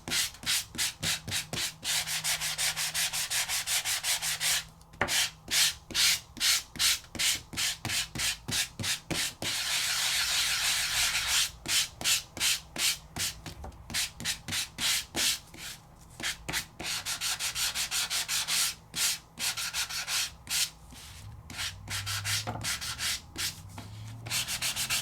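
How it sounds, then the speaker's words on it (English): Embossed cardstock being sanded by hand, quick rhythmic scratchy rubbing strokes in bursts with short pauses between, close and fairly quiet. "I can give a little bit of a sanding"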